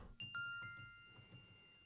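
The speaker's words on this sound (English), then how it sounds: "I have the chimes here." Chimes from a music software instrument ring out in a few quick struck notes that overlap and fade in a soft, sustained decay.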